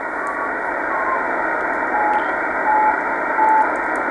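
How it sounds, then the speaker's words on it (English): Beacon from the HO68 amateur radio satellite received on a ham radio, steady tones carried through a constant hiss of radio static, with faint tonal lines drifting over the noise and no voices. "This is the beacon for HO68."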